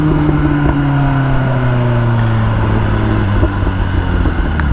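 A BMW M1000 R motorcycle engine hums steadily at close range, pitch gradually falling as it decelerates, with faint crackles and pops from the exhaust scattered through the continuous drone.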